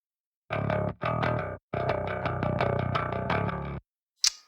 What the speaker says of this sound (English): just went for a massive, massive high-end distortion sound.